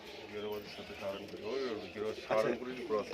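Saharanpuri and Girobaz pigeons coo in a loft, soft rolling calls repeating close by, while someone talks over them in conversation.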